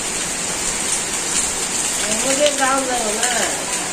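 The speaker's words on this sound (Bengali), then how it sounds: "বৃষ্টি আর থামেই নেই, অবিরত ঝড়ি বৃষ্টি।" Steady, dense rain hiss from a heavy, windy downpour in a Bangladeshi village fills the clip without a break, with a faint voice or tonal sound murmuring underneath toward the end.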